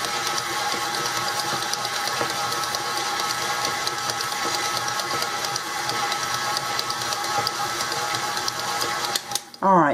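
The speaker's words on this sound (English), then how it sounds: "Just a whole lot easier if you use your mixer." An electric mixer churning meatball meat, a steady, loud motor whir with a rhythmic mechanical chatter that runs continuously, then cuts off abruptly with a short clatter at the end; a person talks over it.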